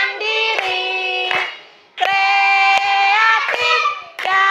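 A rhythmic spirit clap done in a classroom lesson: sharp hand claps land in a set pattern between loud, sustained chanted voices, close and clear.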